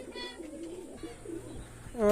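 Oman bloodline Teddy pigeons coo in soft, low, rolling murmurs close by, with a brief louder noise at the end.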